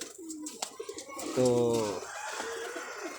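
A young teddy pigeon coos once in a short, fairly loud burst close by, set between brief bits of someone talking.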